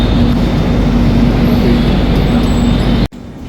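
A train on a ghat section with banker locomotives pushing from the rear gives a loud, steady, close engine rumble and roar, then cuts off abruptly after about three seconds.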